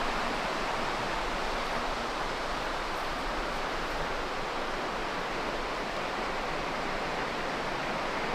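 A river system runs steadily in the distance outdoors, a continuous broadband rush of flowing water that stays even and unbroken throughout.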